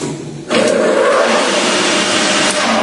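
An engine lathe spindle switches on with a sudden jump into a loud, steady whirring drone that holds evenly for a few seconds, with no talk.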